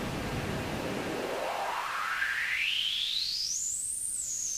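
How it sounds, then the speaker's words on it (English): Steady hiss of noise passes through a tuned resonant filter, a whistling tone sweeping smoothly upward from low to high as the resonance frequency moves, then dipping slightly at the end. "I'm going to put some noise through this, and we can hear that there's a tuned aspect to this filter."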